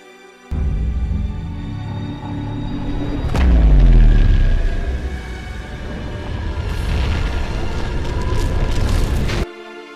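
A large weapon fires in an animated Transformers and Star Wars crossover battle, a sudden loud deep boom swelling into a long rumbling roar that lingers and builds again before cutting off.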